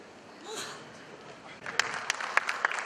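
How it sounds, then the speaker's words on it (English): Scattered applause breaks out for panelists at a business conference, following a moment of quiet room noise and talk, with a handful of sharp claps. "a round of applause for all the panelists"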